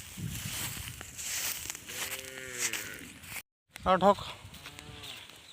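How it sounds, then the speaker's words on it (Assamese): A cow moos several times at a moderate distance, drawn-out lowing calls over faint outdoor background, with a person speaking briefly nearby. "গৰু"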